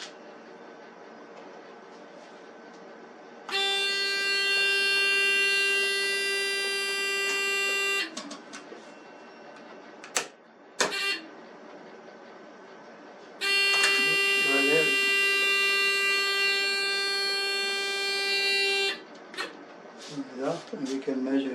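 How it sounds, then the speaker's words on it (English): A water level meter's buzzer sounds in two long, loud, steady electronic tones several seconds each, separated by a quieter gap with a few clicks and handling noises, with soft speech around it. "Put it on the buzzer here"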